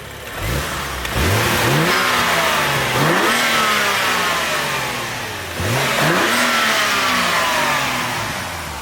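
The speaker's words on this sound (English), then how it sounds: "I'll give it a few rips." A 2012 BMW 135i M Sport's N55 twin-scroll single-turbo engine revved hard in repeated loud rising rips, each falling back before the next, close up with no talk.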